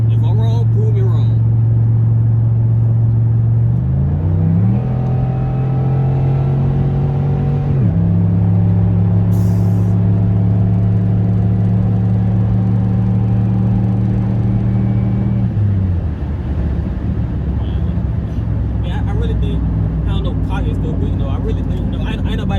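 A cammed 2008 Chevrolet Impala SS with a full 3-inch straight-pipe exhaust idles loud and deep, revs up in steps, holds a high steady drone, then drops back to a rough lumpy idle, close to the car.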